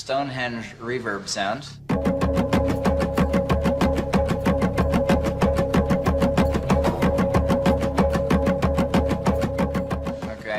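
Replayed recording of a steady Stonehenge drum rhythm, a fast, even pulse of evenly spaced beats sustained for several seconds, loud and continuous, after a brief stretch of speech at the start.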